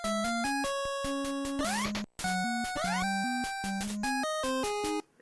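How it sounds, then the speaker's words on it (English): Chiptune music from the video game Super Pitfall, a bouncy square-wave melody over a stepping bass line with rising pitch sweeps. It plays loud and steady, cuts out briefly near the middle, then repeats. "if you take a game like Super Pitfall and you hear the music,"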